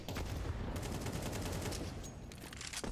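Dense gunfire from SMGs and rifles in a Counter-Strike 2 match at the CS2 Austin Major 2025, with rapid overlapping shots forming a continuous loud barrage that fills the whole stretch.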